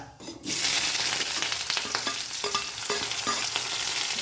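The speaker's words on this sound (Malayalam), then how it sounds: "അത് കഴിഞ്ഞിട്ട് നമുക്ക് സവാളയും വേപ്പിലയും കൂടി ഇടാം പച്ച സവാള" Chopped raw onions and curry leaves land in hot oil with popped mustard seeds and fry with a loud, continuous sizzle. A spoon scrapes and stirs now and then, close up, with no voices.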